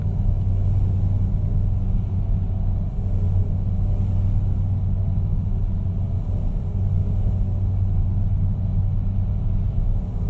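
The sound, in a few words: truck engine rumble in video game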